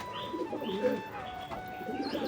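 Cooing from a male pigeon, a kalshira-type homing bird, close by: a steady series of soft, throaty coos repeating through the moment, with no talk over it.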